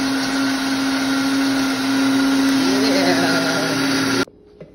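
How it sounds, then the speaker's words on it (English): A blender whirs loudly and steadily as it blends a banana smoothie, its motor pitch shifting slightly near the end before it cuts off abruptly into near silence. "now we about to make a smoothie"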